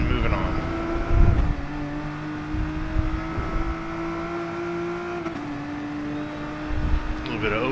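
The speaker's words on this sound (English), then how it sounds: "A little bit of over rev, but not too much." A race car engine over-revving during a GT Sport online manufacturer race, droning steadily with pitch shifts and brief revving bursts while someone talks over it.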